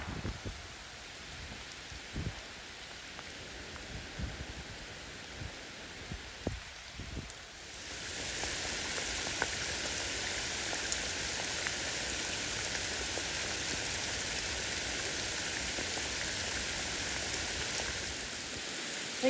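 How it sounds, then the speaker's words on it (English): Heavy rain pours steadily on the Appalachian Trail, starting as a lighter patter with scattered drops and then swelling abruptly into a loud, dense, continuous downpour that holds for the rest of the stretch. "I think we got a little rain."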